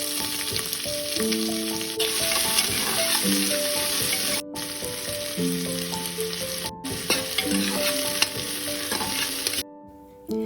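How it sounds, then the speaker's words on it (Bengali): Onions, bay leaves, cinnamon and cardamom sizzle steadily in mustard oil in a pressure cooker, a constant frying hiss with occasional stirring under light background music. "আর তেজপাতা দিয়ে লাল লাল করে ভেজে নেব।"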